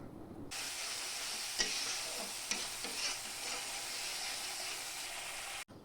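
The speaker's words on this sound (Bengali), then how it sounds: "তারপরে যে মশলাটাকে ভিজিয়ে রেখেছিলাম সেটাকে দিয়ে দিলাম, আর একটু বাটি ধোয়া জল দিয়ে এবার কষিয়ে নেব।" A soaked spice paste sautés in a pan with a splash of bowl-rinsing water, giving a steady, close sizzle throughout with a few faint scrapes of stirring.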